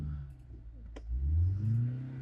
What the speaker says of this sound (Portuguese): vamos ver se a gente consegue ouvir aqui o carro